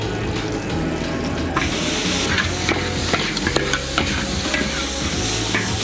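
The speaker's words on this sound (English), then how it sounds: "here you get a nice little sizzle" Ham and ginger sizzle loudly in a hot wok while a spatula stirs and scrapes them. The frying hiss is continuous and close, with clattering scrapes mixed in and no talk.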